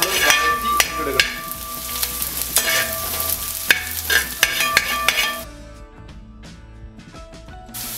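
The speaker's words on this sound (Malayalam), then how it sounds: "ഇത് നന്നായിട്ട് നമ്മൾ വഴറ്റി ഇടുക" Curry leaves sauté in hot oil for a Kerala-style varutharacha chicken curry, giving a loud, steady sizzle with frequent clinks and scrapes of stirring. The frying softens noticeably toward the end.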